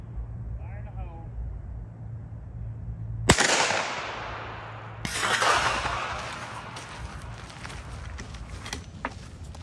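A suppressed rifle firing a 458 SOCOM 300-grain supersonic round, heard as two sharp, loud cracks a couple of seconds apart, each followed by a long decaying rumble, after a brief faint voice at the start.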